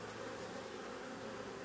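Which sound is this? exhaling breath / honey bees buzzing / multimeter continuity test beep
honey bees buzzing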